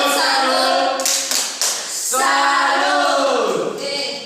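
An elementary school class claps the 'tepuk salut' rhythm, a few sharp, close hand claps set against children's chanting voices that fill the room.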